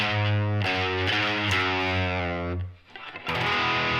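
Distorted electric guitar plays the final riff of a song, thick sustained notes bending and sliding, briefly dropping away before a last ringing chord returns, loud and alone.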